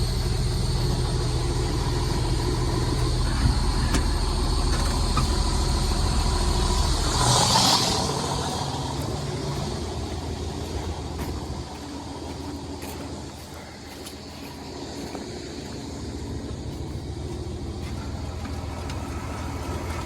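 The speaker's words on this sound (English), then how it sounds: "We just change this over, and now the macerator will run opposed to the arms folding." A slurry tanker's macerator runs with a steady low mechanical drone and hum, loud and close, easing slightly midway before carrying on.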